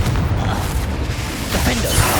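A Confringo fire spell blasts in Hogwarts Legacy, a loud, dense burst that swells again toward the end amid ongoing combat noise, with a brief voice faintly present.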